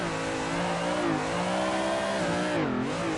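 A BMW car engine drifting in Assetto Corsa, its loud steady engine note wavering up and down as the car slides, with tire noise alongside and no talking.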